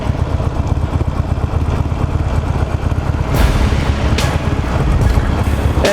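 A Harley-Davidson Nightster motorcycle ridden through traffic on a warm day, its engine a steady, close rumble buried under heavy, continuous wind buffeting, with no talking.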